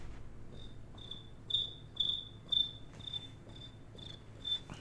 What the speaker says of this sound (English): That cricket noise.